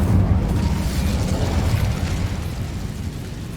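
A fiery spell blast in Hogwarts Legacy: a loud, low rumbling burst that roars steadily and slowly fades over a few seconds, with no talking.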